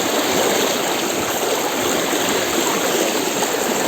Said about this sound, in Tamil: எவ்வளோ ஃபோர்ஸாக தண்ணி வந்துட்டு இருக்கு.